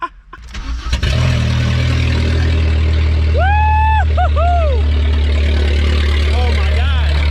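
A VW Golf 3 with a 1.8T swapped engine running with no exhaust fitted, starting with a jolt and then droning loud and raw at a steady idle, with a brief whistle-like tone partway through.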